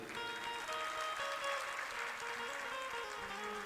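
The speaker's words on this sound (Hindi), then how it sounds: "ताली कम बजी अभी।" An audience at a Hindu religious discourse on Shiva worship claps in a dense, steady burst of applause lasting a few seconds, with a sustained musical drone underneath.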